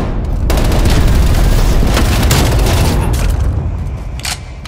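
Cruise missile strike in Call of Duty: Black Ops Cold War: a dense, very loud run of booming blasts and rattling gunfire that continues for about four seconds, then thins out.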